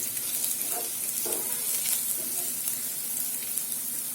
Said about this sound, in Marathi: आलं लसूण व्यवस्थित इथे परतल्या गेला आहे हे बघा